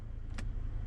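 A single short click from the steering-column gear selector of a Chevrolet Blazer electric car, close and brief over a steady low cabin hum.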